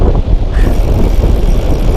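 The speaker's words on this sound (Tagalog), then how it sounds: "Lakas ng hangin mga tropa." Strong wind buffets the microphone of someone out cycling, making a loud, continuous low roar with uneven gusts throughout.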